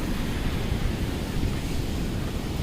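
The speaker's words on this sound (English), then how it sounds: "Look at the waves." Ocean waves at Candolim beach in Goa roar steadily as a continuous broadband wash of surf, loud and unbroken, with wind buffeting the microphone.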